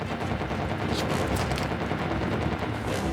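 Dense, continuous gunfire from Uncharted 4, with rapid bullet shots packed together into a loud, unbroken barrage that holds steady from start to end, with no voices over it.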